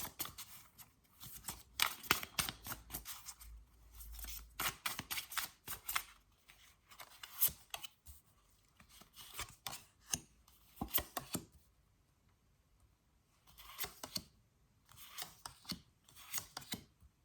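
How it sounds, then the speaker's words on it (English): Tarot cards shuffled and dealt out in a love reading, heard as bursts of crisp riffling and snapping card slaps that stop and start, with short quiet gaps between handfuls. "So let's lay out some cards and see what pops up for you."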